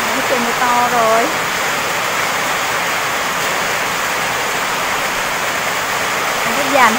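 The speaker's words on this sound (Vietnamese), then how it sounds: "Nó trời mưa to rồi" Heavy rain pours down steadily in a steady broadband hiss around a farm home, loud and continuous, with brief voices speaking at the start and end.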